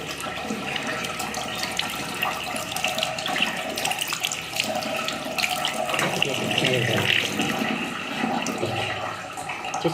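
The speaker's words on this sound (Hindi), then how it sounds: "तो मैं आपको दिखाती हूँ हैंड वॉश करके" Hands being washed under a running tap at a dirty wash basin, a steady close rush of water with splashing and shifting flow, and a voice speaking faintly now and then.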